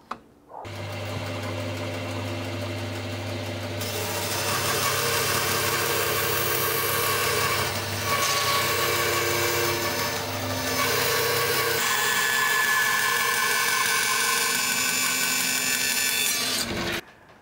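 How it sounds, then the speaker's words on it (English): A bandsaw resaws a thick board into a thin slice, its steady machine drone and rasping cut running loud and continuous for about sixteen seconds before stopping, with no talking. "that's the biggest bit of wood I've resawed on that bandsaw"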